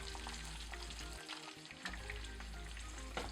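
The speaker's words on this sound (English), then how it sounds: "we're just going to let the butter melt pretty good on low heat" Butter melting on low heat in a pan with steaks, a dense continuous close sizzle and crackle with a low hum beneath, no talking.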